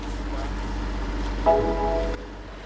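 A BMW X5 F15 SUV engine idles just after starting, a steady low rumble with a faint brief tonal whine in the middle before the sound cuts off.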